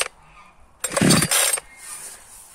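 A new petrol chainsaw is pull-started, giving a short loud burst of rasping engine noise that catches briefly and dies, with quiet moments before and after.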